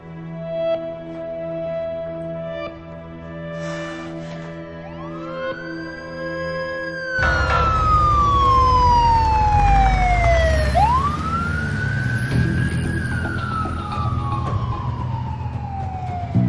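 A wailing ambulance siren sweeps up and down in pitch, starting fainter and growing loud and close about halfway through, with road rumble underneath.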